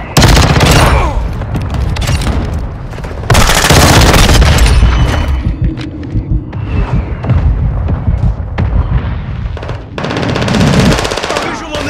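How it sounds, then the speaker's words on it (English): Call of Duty: Modern Warfare II match with heavy automatic gunfire and booming mortar explosions, loud and dense, arriving in bursts across the whole stretch with brief lulls between volleys. "Mortar strike on the way."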